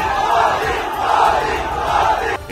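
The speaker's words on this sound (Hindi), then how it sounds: "लोगों ने मोदी मोदी और जय श्री राम के नारे लगाकर उनका जोरदार स्वागत किया" Crowd at a metro station chanting Modi Modi and Jai Shri Ram slogans for Prime Minister Modi during the Lok Sabha election, loud rhythmic massed voices rising and falling in waves, then cutting off abruptly.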